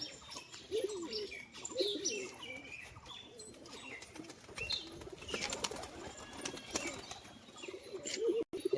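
Tumbler pigeons, Giribaz-type birds, coo and chirp in a busy loft, with repeated throaty calls, occasional wing flaps and light handling noise, sometimes under a faint voice.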